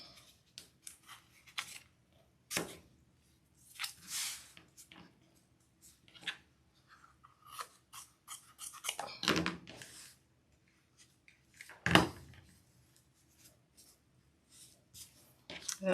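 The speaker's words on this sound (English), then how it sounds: "And I will just snip off all these longer pieces." Scissors snip off the longer fabric pieces of a no-sew candy corn gnome wreath: scattered close, sharp snips and crisp cuts in an irregular rhythm over a quiet background, with no talking.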